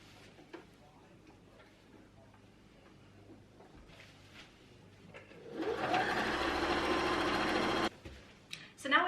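Sewing machine stitching a quarter-inch seam down the side piece of a fabric stair tidy bag, starting after quiet handling sounds and running steadily and loudly for about two seconds before stopping, with faint clicks around it.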